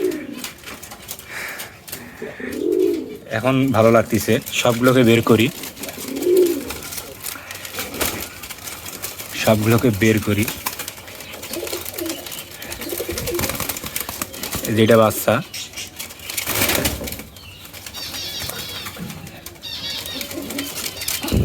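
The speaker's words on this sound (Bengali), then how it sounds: "এই যে এই কবুতরটা অনেক সুন্দর ফ্লাই করে" Pigeons in a farm coop give repeated low, throaty coos, with occasional wing flutters, while someone talks nearby throughout.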